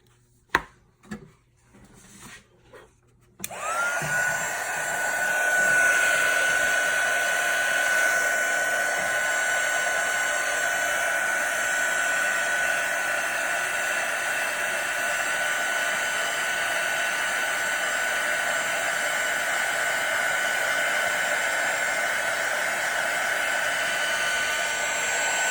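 A heat tool blows hot air over clear embossing powder on a paper crafting project, starting after a few soft handling taps and then roaring as a steady, close, loud whoosh that continues without a break.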